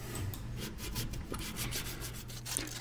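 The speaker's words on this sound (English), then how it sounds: "I'm going to use some 220 grit sandpaper, and I'm going to clean this axle shaft off" Sandpaper of 220 grit rubbing a lawn mower rear axle shaft clean, a steady close scratchy scrubbing that runs without a break against a low background hum.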